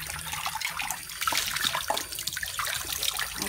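Cold water runs over cooked arborio rice in a small strainer, a steady close splashing and trickling stream that continues without a break for a few seconds.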